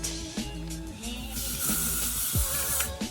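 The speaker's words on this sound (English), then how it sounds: "take this hairspray and I kind of cover my face a little bit and spray downwards" Aerosol hairspray hisses in a steady burst of about a second, over soft background music.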